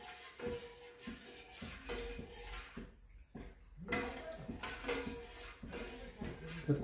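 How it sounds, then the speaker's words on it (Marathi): A spoon stirs a milk mixture for homemade ice cream in a pot over medium heat, giving repeated soft scraping and knocking strokes in a steady rhythm, close and fairly quiet. "हे मिश्रण मी चांगलं हलवून घ्यायचं"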